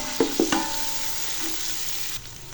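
Ginger garlic paste fries in ghee, opening with a few quick spoon taps against the pan before settling into a soft, even sizzle.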